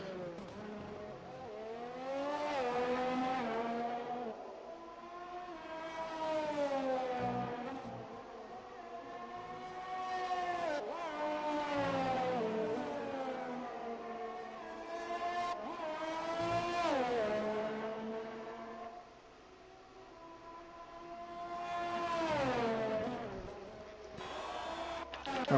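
F1 race car engines in an Austrian Grand Prix esports sim race scream through repeated revving sweeps, each rising and falling as cars pass, steady and loud throughout with no talk.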